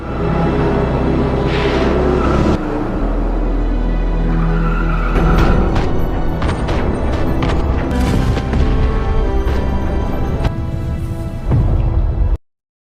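A car in a film action scene is shot at and explodes, with heavy booms, engine roar and tire squeal. Sharp cracks and bursts come through the middle, loud and chaotic, with no talk.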